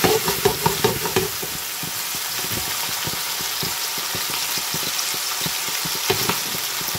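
Coconut curry balls frying in a pan, a steady sizzle with crackling pops throughout, close and fairly loud, no talking.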